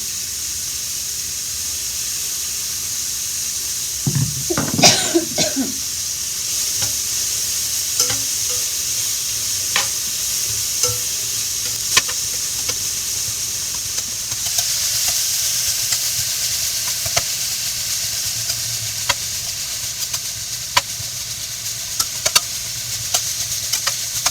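Vegetables for a squash and bean soup stirred and sizzling in oil in a soup pot, a loud scraping stir early on followed by a constant close crackle with scattered sharp pops.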